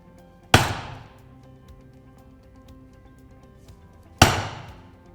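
A mallet strikes a chisel cutting a mortise in wood, two sharp, loud knocks several seconds apart, each ringing briefly and fading into quiet room tone.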